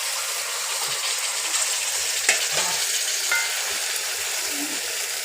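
Mango pieces frying in a pan with spices for mango pickle, giving a steady, dense sizzle with a few light stirring knocks and scrapes.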